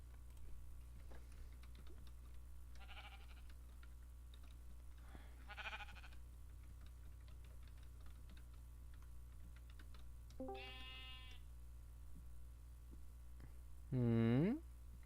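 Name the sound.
sheep bleating in a video game (RAD)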